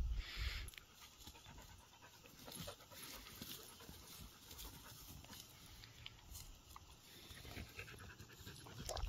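A dog pants steadily and rhythmically close by, quick breaths repeating throughout with faint background noise and no talking.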